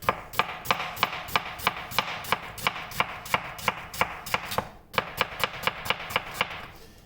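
A knife chops steadily through beef on a cutting board, slicing it into thin strips with the grain for goulash: about twenty crisp, evenly spaced strikes, close and clear, with a brief pause near the end.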